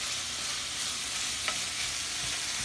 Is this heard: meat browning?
yes